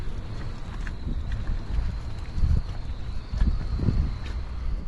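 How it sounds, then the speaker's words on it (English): Steady low rumbling wind gusts buffeting outdoors on a boat at anchor, swelling louder in bursts, with no voices. "You can hear the howling wind."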